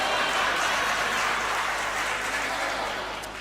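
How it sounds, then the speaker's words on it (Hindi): An audience at a comedy poetry show applauds in a steady, dense patter of clapping that fades slightly toward the end. "इस बात पे ताली निर्मल सक्सेना जी की वाइफ ने बजाई है"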